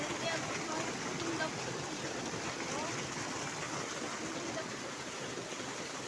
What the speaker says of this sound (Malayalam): ഈ വെള്ളം ഇങ്ങനെ ഒഴുകി പോകുമ്പോൾ സൗണ്ട് കേൾക്കാൻ നല്ല രസമാണ്.